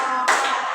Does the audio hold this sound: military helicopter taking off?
no